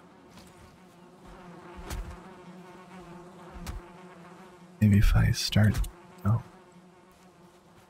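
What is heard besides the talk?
bees buzzing in video game Valheim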